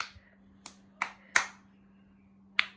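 A child claps hands in a quiet home room, five sharp separate claps spaced unevenly, fairly close and moderately loud, with a steady low hum underneath.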